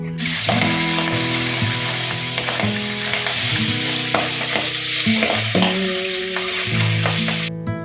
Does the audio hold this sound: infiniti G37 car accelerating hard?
no